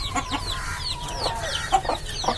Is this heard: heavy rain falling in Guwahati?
no